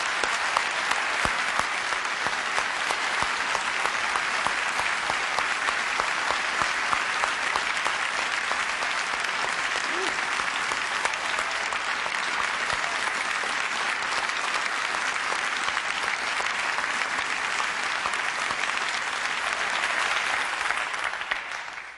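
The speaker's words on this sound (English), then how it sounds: "I would just like to give them a round of applause." A large presentation audience gives sustained applause for the Apple teams behind the 2005 iPod launch. The dense, even roar of many hands clapping holds for over twenty seconds before tapering at the very end.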